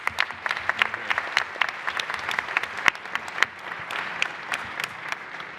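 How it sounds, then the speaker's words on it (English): A room at a press conference in Rome breaks into applause for the lead architect, a moderate burst of clapping that rises and thins over several seconds. "Questo è un applauso per Dan Meese."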